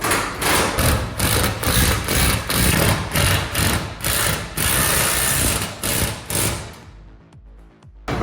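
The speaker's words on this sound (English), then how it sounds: "so we can just drill and bolt and drill." Power drill boring holes for brackets while repairing a sagging garage door, loud and close, with repeated bursts of whirring separated by brief pauses before fading near the end.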